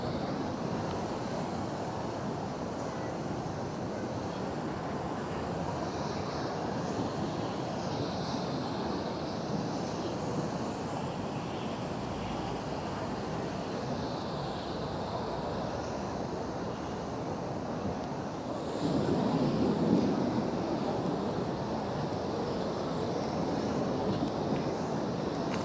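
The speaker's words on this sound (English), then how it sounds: "I think I'll just let the sound of the sea roll for a little while." Sea waves wash onto the shore at Cleveleys in a steady, continuous roar with no talk, swelling slightly louder near the end as a bigger wave breaks.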